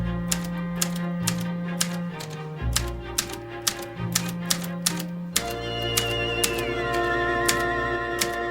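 An old typewriter clacks in a steady rhythm of sharp key strikes in an office, each hit distinct and close, with sustained music playing underneath.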